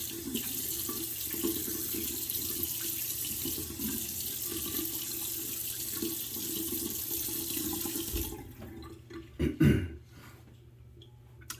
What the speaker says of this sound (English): I'm gonna wet my face real quick while I talk.